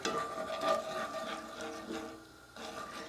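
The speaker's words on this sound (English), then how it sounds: "I'm going to get this up and mix this up a little bit here" A spoon scrapes and swishes through a honey garlic glaze in a pan, a faint, irregular stirring with soft sizzling underneath.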